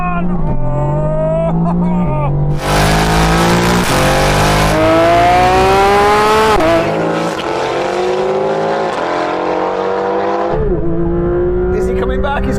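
A Porsche GT3 RS and an AMG GTR race side by side, their engines loud and close, revving and rising in pitch through gear changes, with excited voices shouting over them.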